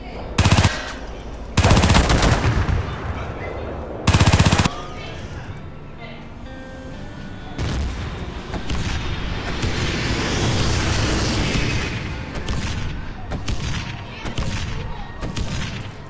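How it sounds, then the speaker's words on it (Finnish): Explosive bursts from a grenade launcher pounding a building in the video game Renegade X, several loud blasts early on, then a long stretch of rumbling battle noise. "Granaatin heitin mies on tällä hetkellä ampumassa tuhoamassa tuota rakennusta"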